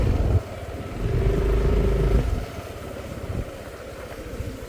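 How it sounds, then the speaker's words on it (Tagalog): A motorcycle engine in Puerto Princesa, Palawan, rumbles fairly close for a couple of seconds with a brief rising whine, then fades to a low, quieter idle-like drone with some background clatter. "Motorcycle."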